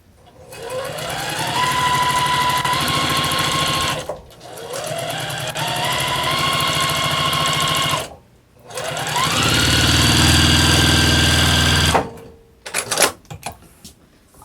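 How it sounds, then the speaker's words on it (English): A sewing machine stitches quilt pieces together in three long, steady runs of several seconds each, with short pauses between them and a few soft clicks and handling noises at the end; no voices. "I'm going to go back and sew these two together."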